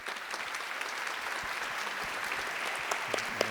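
Sustained audience applause filling a lecture hall for a curator, José Alves de Freitas Neto, at a talk with historian Leandro Karnal; steady dense clapping throughout, with a few louder individual claps standing out near the end.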